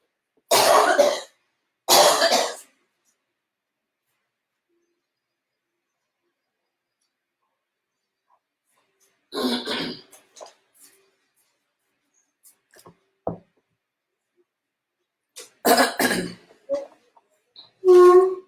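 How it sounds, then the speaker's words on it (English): Several separate throat clearings and short coughs, close and fairly loud, spaced apart by long silent stretches, with a few small mouth noises. "I need a sip of water, otherwise I'll keep on clearing my throat."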